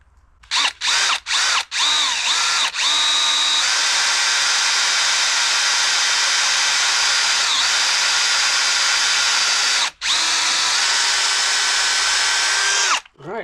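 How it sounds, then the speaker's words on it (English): A cordless drill gun whines at a steady high pitch while drilling through a golf ball, a few short bursts first, then one long continuous run, a brief stop and a final stretch, loud and close. "let's just see if I can do it with the drill gun"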